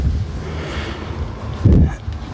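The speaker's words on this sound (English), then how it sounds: "Oh, the wind is picking up." Wind picking up outdoors in a summer garden, a loud rushing buffet against the microphone with low rumbling gusts that swell near the end, no talk.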